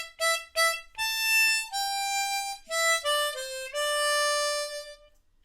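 Harmonica playing the melody line, a short phrase of clear sustained reedy notes, a few quick repeated ones and then longer held tones, solo and close.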